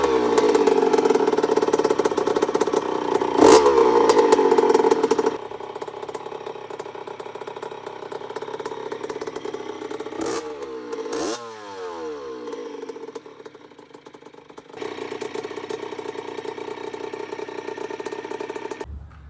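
A 1999 Yamaha YZ80 two-stroke dirt bike, rebuilt with an 85cc top end, running and revving: a buzzy engine note that rises and falls, with quick blips and a steadier idle stretch, close up.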